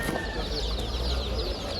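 Chickens clucking amid a busy bird market in Bursa, with several hens and a rooster calling over a constant low crowd rumble and chatter, close and fairly loud throughout.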